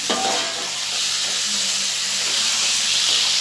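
Meat frying with onions and bay leaf in a hot pan of oil, a loud continuous sizzle and hiss close by, with a brief stir at the start and no talking.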